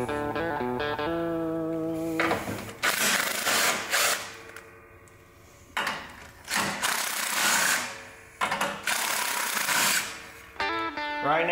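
A power driver backs self-tapping screws out of a Husqvarna motorcycle frame in repeated close, whirring bursts of varying pitch, with short pauses between runs.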